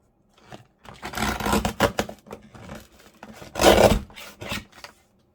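Paper for a junk journal cover topper being cut down, close rasping snips and rustling strokes in irregular bursts with short pauses between, loudest near the middle, no talking.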